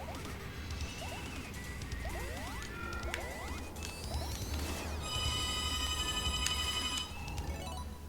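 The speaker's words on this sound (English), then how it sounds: "And then we've got my phone ringing with potential spam." A phone ringing with a spam call, its repeated electronic ring tones cutting over a busy Sonic Superstars Carnival level with game music and crashing effects, fairly loud throughout.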